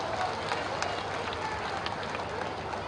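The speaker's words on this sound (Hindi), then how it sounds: "इनका बजाओ कस के ताली" An audience at a political workers' gathering in Patna claps in a dense, steady burst of applause that holds evenly throughout, with no voices standing out.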